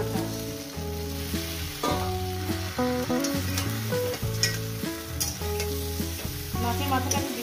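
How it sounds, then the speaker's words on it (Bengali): A fish head sizzles in oil and is stirred around a pan for a Bengali chorchori with five vegetables. Steady frying crackle runs under repeated scraping stirs, with tonal music faintly in the background. "মাছের মাথাটা দিয়ে ভালো করে কষি মিনিমাম আর দু মিনিট।"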